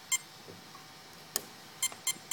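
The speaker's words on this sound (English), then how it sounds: "Now we're on four beeps and then one beep, which would be punch control on high." A Mamba electronic speed controller for an RC model gives a programming tone pattern: short, clear electronic beeps, four in a group followed by a single one, faint and alone with no talk.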